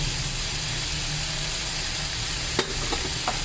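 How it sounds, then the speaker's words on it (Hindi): Chicken filling fries in a pan with a steady sizzle while it is being stirred, and a couple of brief scraping clinks near the end. "ये देखिए, चिकन को मैंने इतना भून लिया है, इसका कलर चेंज हो गया है"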